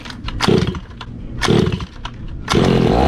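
The small gas engine of a 1:5 scale RC BMW car sputters as it is cranked and fires up, with three loud bursts of raspy revving, the last one catching and running, close and with no talk.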